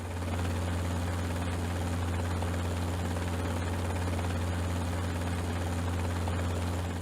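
Steady, droning rotor and turbine noise from an H-160 helicopter, a continuous loud hum with a strong low thrum that holds unchanged throughout, no voices.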